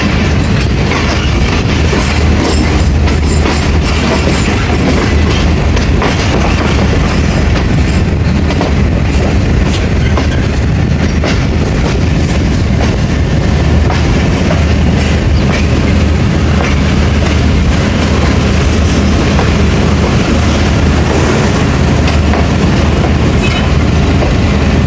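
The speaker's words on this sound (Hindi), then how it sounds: "चलें जी, गुजरात पहुंच गई हमारी ट्रेन।" Awam Express passenger train running on rails between Lahore and Attock, a loud, steady rumbling roar of wheels and carriages with a rhythmic clatter, heard from inside the moving train with no talking.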